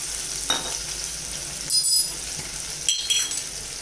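Soy sauce stirred into a frying paneer sizzler mix in a pan, a continuous close sizzle with a few sharp metallic clinks of the spoon against the pan.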